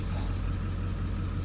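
A 1999 Ford Super Duty pickup with the 7.3 diesel engine and 330,000 miles on it, idling right after a key start: a steady, loud, low rumble close to the listener, with no voices.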